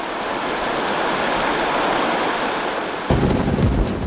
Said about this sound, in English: the water of the Spree flows into the pond region